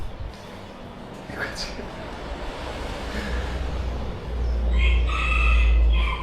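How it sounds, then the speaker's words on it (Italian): A rooster crows at a room in Dili, Timor-Leste, a strained call rising over steady background hum and noise, fairly distant and partly masked by low rumble. "Qua c'è il gallo."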